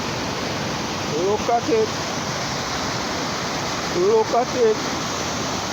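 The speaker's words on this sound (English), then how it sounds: "Look at the river, guys." A river swollen and rushing after a hurricane gives off a steady, broadband roar throughout, while a nearby voice speaks briefly twice over it.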